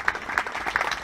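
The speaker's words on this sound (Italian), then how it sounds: "Un applauso oceanico." An audience at a summer stage show in Italy breaks into a brief burst of rapid, lively hand clapping.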